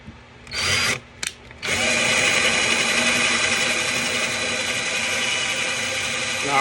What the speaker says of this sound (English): And however you want to drill it out, that's your thing.